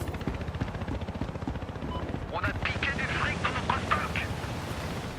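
Helicopter in Battlefield Hardline multiplayer, a throbbing rotor drone running the whole way through, with bursts of gunfire joining partway and someone speaking over it.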